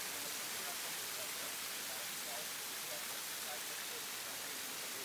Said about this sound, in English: This is a small waterfall.